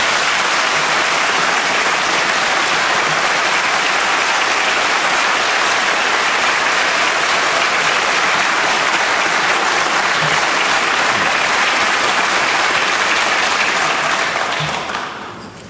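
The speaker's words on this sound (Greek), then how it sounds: "συνέχισε ο Αλέξης Τσίπρας κατά χειροκροτούμενος από τους κυβερνητικούς βουλευτές." Government members of parliament applaud in a sustained, loud burst of dense clapping that fills the chamber without a break and fades only at the very end.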